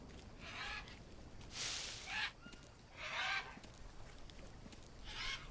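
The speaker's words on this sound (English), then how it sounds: "we're gonna have to kill some of these birds" Birds in the jungle survival game Green Hell squawk and cluck in short, repeated bursts at fairly low volume, about four calls spaced roughly a second apart over a quiet background.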